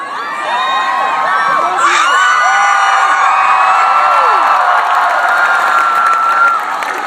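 A large, dense crowd cheers, whoops and shouts at an Obama rally in Madison, Wisconsin, a loud sustained roar of many voices with high excited yells throughout, swelling briefly before easing off at the end.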